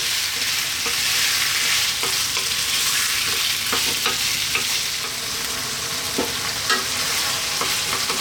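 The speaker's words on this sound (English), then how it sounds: "I'm going to drop in our garlic ginger paste." Onions with garlic ginger paste, cumin and fennel seeds fry in a pan for a vegan potato eggplant curry, making a loud, continuous sizzle. Scattered clicks and scrapes of stirring sit on top of the hiss, and no one talks.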